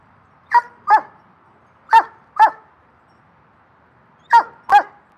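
Puppies barking outdoors in short paired yips and barks, three clear bursts separated by quiet gaps, close and loud with no talking.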